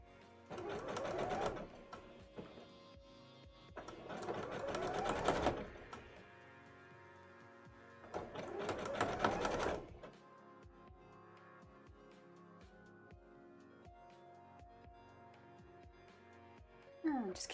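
Sewing machine stitching a petticoat waistband in three loud rapid bursts of rattling stitches, each lasting a second or two, separated by quieter pauses with small clicks and handling sounds.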